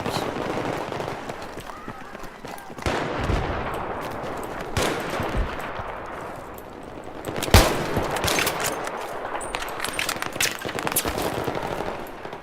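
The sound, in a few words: gunfire in a video game, M98B rifle and M9 pistol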